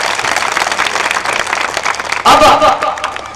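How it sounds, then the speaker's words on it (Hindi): An audience at a program breaks into loud, close applause, dense clapping throughout with a sharper surge of cheering and voices in the last second. "एक बार जोरदार ताली बजाएं।"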